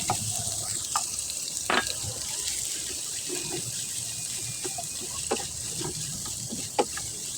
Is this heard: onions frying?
yes